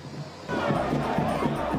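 Palmeiras supporters in São Paulo sing together in a dense, roaring chant, backed by steady thumping drums from the stands.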